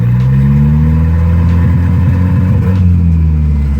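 Turbocharged Volvo engine revving up to higher RPM, a loud, steady, close mechanical drone with low harmonics that rise and fall slightly, running continuously without any talk.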